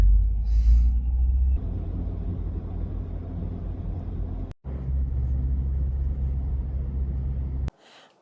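A UAZ drives off over loose snow with a deep, steady engine rumble that holds close and loud, drops out for a moment, returns and then cuts off abruptly.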